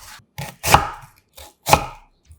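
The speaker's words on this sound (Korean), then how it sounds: "1cm 두께로 편 썰어주고" A knife slices firm kohlrabi into 1 cm slabs on a cutting board, giving four crisp, close chops spaced about half a second apart.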